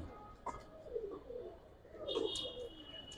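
Grizzle racing pigeons, a pair kept as colored racers, give soft low coos in a short quiet burst, with a faint higher tone and light chirps in the background.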